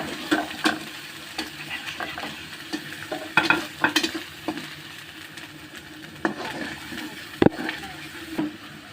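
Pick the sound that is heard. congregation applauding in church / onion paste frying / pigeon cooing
onion paste frying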